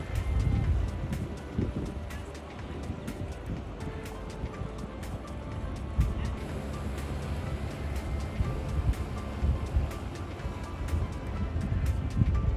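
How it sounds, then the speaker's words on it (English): Small sea racer boat with a little outboard engine at the back, running steadily on open water, a constant loud low drone mixed with wind buffeting the microphone and splashing water, with no clear voices. "We're on a sea racer right now. We've got a little engine in the back."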